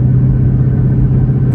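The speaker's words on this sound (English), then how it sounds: "pretty sure this is gonna be the fastest car I ever rode in" Steady, loud low engine rumble from a turbocharged Ford Mustang, heard from inside the car, holding an even drone throughout with no voices.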